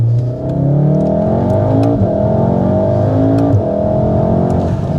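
Mountune-tuned VW Mk7.5 Golf R accelerating hard in a straight line, its engine note loud and close, rising steadily through the revs with a brief shift dip, no talking over it.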